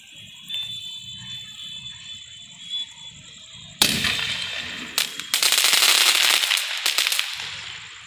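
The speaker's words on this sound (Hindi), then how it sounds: "अब हमारे पास जो आता है वो आइटम है ग्रीन क्रैकलिंग शॉट" A green crackling shot firework is set off for Diwali. A thin whistling tone comes first, then a sudden loud bang and several seconds of dense, sharp crackling bursts close by.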